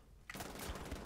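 Gunfire in the video game Wolfenstein: The Old Blood, a sudden loud burst of shots that breaks a quiet moment and keeps going to the end.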